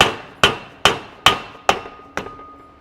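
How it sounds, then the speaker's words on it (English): Six sharp metal hammer blows, evenly spaced about half a second apart, driving a throwout bearing onto a Dodge Charger drivetrain part with an RB engine swap; each strike rings briefly and decays, close and loud, with no talk. "Hammer fixes the problem."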